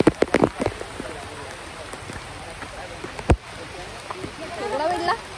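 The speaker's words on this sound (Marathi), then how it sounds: "आणि पाऊस खूप जोरात आहे." Heavy rain falls steadily outdoors on a trip to a temple, a broad wash of patter with a few sharp splashes and knocks, close and fairly loud, with a voice briefly heard.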